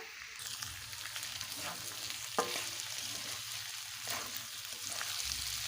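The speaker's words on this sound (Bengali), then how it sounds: "কিছুক্ষণ একটু ভেজে নেবো সবজিগুলো" Onion, potato and pointed gourd sizzle as they fry in a hot pan over a low hum, with occasional scrapes and taps from stirring.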